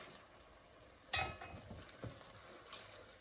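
Mushroom and leek risotto rice stirred in a pan, a quiet scraping clink of the utensil against the pan followed by soft wet stirring and gentle bubbling.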